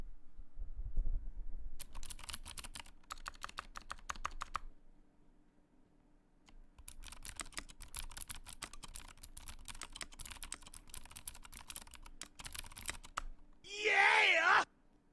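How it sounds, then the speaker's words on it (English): Someone types on a computer keyboard in rapid crisp clicking runs, with a pause partway through before another long stretch of keystrokes; a low voice murmurs at the start, and a loud burst of talk comes near the end. "Can you hear me typing?"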